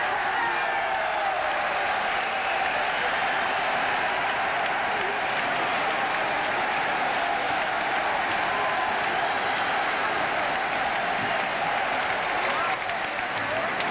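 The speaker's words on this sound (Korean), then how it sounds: "환희의 함성입니다." A boxing arena crowd erupts in continuous applause and cheering after a tenth-round TKO by Jung Koo Chang over Agustin Garcia, loud and dense, with broadcast commentary talking over it.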